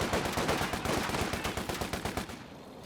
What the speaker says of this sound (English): You've got 2 squads here, shooting at the Universal Carrier long range.